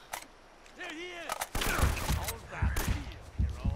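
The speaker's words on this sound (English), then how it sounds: "Man, that shotgun hurts like fuck." Shotgun blasts ring out in Uncharted: Drake's Fortune, a few sharp booming reports with gunfire crackle in the second half, mixed with in-game voices.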